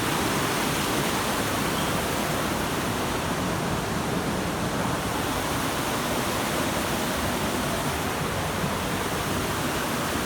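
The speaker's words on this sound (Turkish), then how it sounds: "Bu dere demek ki taşıyor" Rushing stream water roars steadily and loudly, a constant broadband wash with no pauses or voices.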